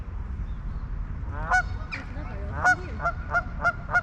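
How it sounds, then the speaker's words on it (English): A goose honks repeatedly near a castle park in Caerphilly, Wales, a series of sharp nasal calls speeding into a quick rhythmic run over low outdoor rumble. "There's a goose right in the distance."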